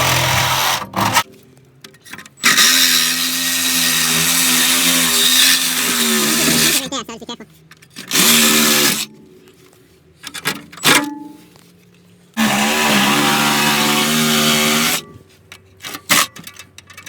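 A power tool cuts a trap door through the floor of a Camaro SS above the fuel pump, a loud, close, whining buzz running in several bursts of a few seconds each, separated by pauses with scraping and knocks.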